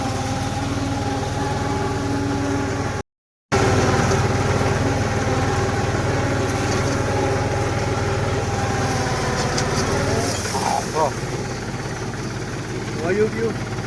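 A tractor engine runs steadily near a deep dam, a loud continuous drone with a brief dropout, while someone talks over it.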